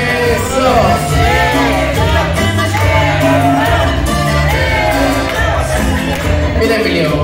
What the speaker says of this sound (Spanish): Y gritamos todos.